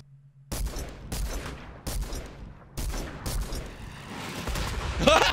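Video game gunfire rings out in several loud, close bursts, each decaying before the next, with heavy booming shots and rapid fire toward the end.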